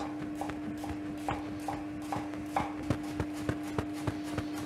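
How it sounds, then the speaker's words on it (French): A knife chops a shallot on a cutting board in a steady rhythm of sharp, close taps, roughly two or three per second, over a constant low hum, with no talking. "il ne nous reste plus qu'à tailler comme ceci notre échalote"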